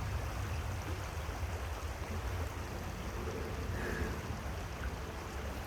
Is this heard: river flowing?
yes